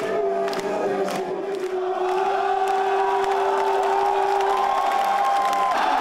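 Soldiers of an army division roar and cheer continuously at an outdoor concert, a loud dense crowd of shouts and whoops sustained throughout with high sharp yells on top.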